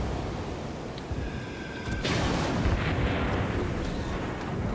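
Naval guns fire from the American tier 4 cruiser USS Phoenix in the World of Warships game: a sudden heavy blast about midway through, with a rumbling, noisy tail, after faint sustained engine and sea background.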